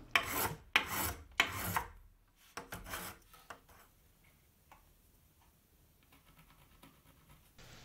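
Hand sanding of a raised inlay on an acoustic guitar build, giving a few loud, separate rasping strokes near the start and then quieter, sparse scraping and handling noises close by.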